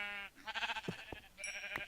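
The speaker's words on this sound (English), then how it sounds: "I hear sheep. I hear a sheep." A sheep in the Minecraft video game bleats in a couple of short, nasal wavering calls, clear and close against a quiet background with no talking.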